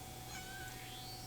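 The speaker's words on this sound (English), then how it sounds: "Ignore any meowing you hear, that's my cat asking for attention." A domestic cat meows once, faint and drawn out, against a steady background hum indoors.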